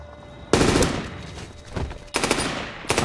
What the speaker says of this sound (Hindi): मशीन गन देख फायरिंग देख